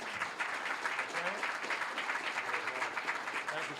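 A crowd claps steadily at a student pitch competition award ceremony, dense sustained applause filling the room throughout with no break.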